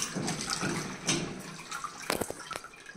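Spinach leaves being washed in plenty of water at home, a continuous close sloshing and splashing with several sharper splashes near the end, no talk.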